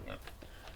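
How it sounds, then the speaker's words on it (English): Farm pigs grunting at feeding time, a few short close oinks in quick succession over a low rumbling background. "Pigs will always be ready to eat no matter what."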